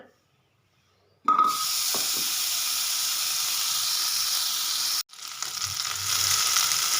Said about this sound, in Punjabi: ਇੱਧਰ ਗੈਸ ਤੇ ਮੈਂ ਕੜਾਈ ਰੱਖ ਲਈ ਹੈ ਤੇ ਸਭ ਤੋਂ ਪਹਿਲਾਂ ਇਹਦੇ ਵਿੱਚ ਪਾਵਾਂਗੀ ਮੈਂ ਬਟਰ